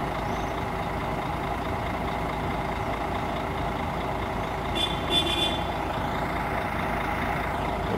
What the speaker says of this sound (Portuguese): O barulhão da máquina. Mercedão.